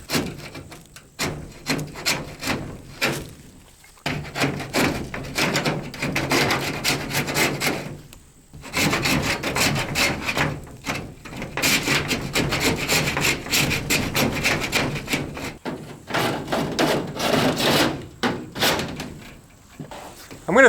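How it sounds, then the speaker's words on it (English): Scraping of old tacky butyl tape sealant off the outside surface of a mobile home window frame, with long rough rasping strokes repeated in bursts and brief pauses, loud and close. "now we have to clean up the outside, which just is scraping the old sealant"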